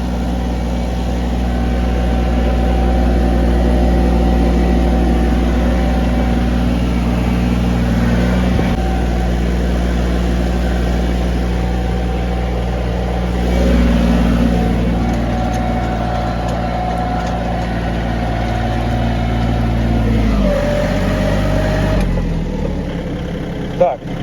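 Iseki TA 235 tractor tilling at minimum speed, a steady low engine drone with a constant rumbling hum throughout, easing and shifting slightly toward the end.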